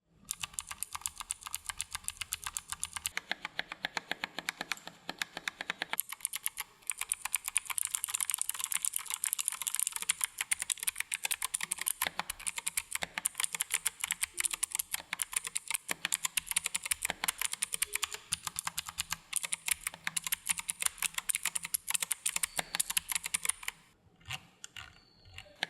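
Rapid typing on an EvoFox Katana X2 TKL mechanical gaming keyboard, a fast continuous clatter of crisp key presses, close up and alone, easing off near the end with a few last taps.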